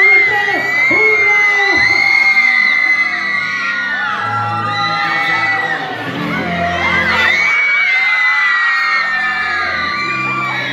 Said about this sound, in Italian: Voglio l'urlo forte per Tony Tanucci